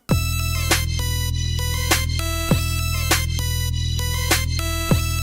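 A bright, buzzy synthesizer playing a repeating sequence of notes, each one sliding quickly into pitch with a short glide, steady and loud.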